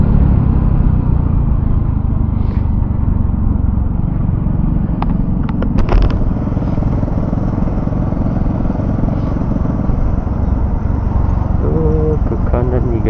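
A Kenchana Sport 115 small motorcycle engine, Suzuki-based, drones steadily while riding, with rumbling wind noise throughout and a few faint clicks and clatters in between.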